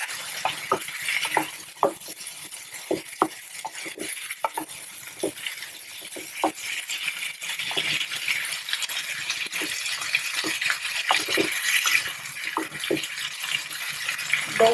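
Tomatoes with curry leaves and salt cook in a pan for chutney, giving a steady close sizzle broken by frequent light ticks and scrapes of a stirring spoon, with no talking.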